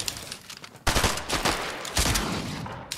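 Rapid shotgun blasts ring out in a Fortnite match, a burst of several loud close shots over about two seconds with ringing tails and no talk.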